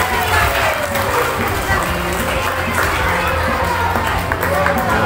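Audience clapping and crowd noise at a primary school traditional costume contest for Independence Month, a steady, dense wash of sound throughout with a hubbub of voices mixed in.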